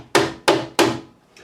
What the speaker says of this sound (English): rubbery plastic hammer type thing